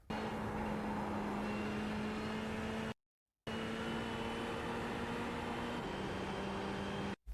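Ferrari 488 GT3 racing car in the iRacing simulator accelerating out of a corner at Willow Springs Raceway, a steady loud engine drone with rising tonal harmonics, cut by a brief silent gap midway and ending abruptly.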